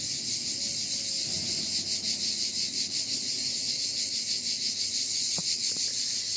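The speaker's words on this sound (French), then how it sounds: "pour que vous entendiez un peu plus le bruit des cigales" Cicadas shrill in a dense, continuous outdoor chorus under pine trees on a sunny summer day, a steady pulsing buzz loud throughout, with a couple of faint brief knocks near the end.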